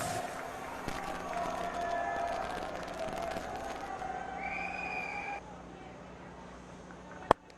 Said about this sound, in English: Anil Kumble joining in the applause